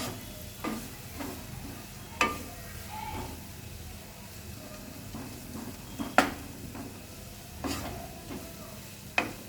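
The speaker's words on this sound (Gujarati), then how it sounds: "મૂળાની ભાજીને ચડતા વાર ના લાગે, એને હલાવતા રહીએ એટલામાં જ ચડી જાય છે" Radish leaves stirred in a pan as they cook, with a steady soft sizzle broken by sharp scraping strokes of the spoon every second or two, close and fairly quiet.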